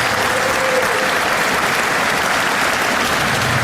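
Loud, dense applause fills a room at a 2019 Jimmie Athletic Hall of Fame ceremony as the crowd honors assistant coach Dan, a close, uniform roar of many clapping hands lasting a few seconds.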